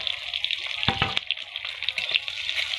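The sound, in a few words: egg frying in a pan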